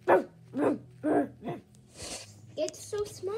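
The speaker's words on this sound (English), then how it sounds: "Is that a dog?" A small dog barks in four sharp, evenly spaced yaps close by, followed by a softer whimpering and growl-like sounds while people talk over and after it.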